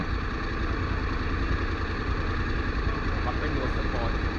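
Honda X-ADV750 big scooter engine running at a steady idle, a continuous close rumble with voices talking over it.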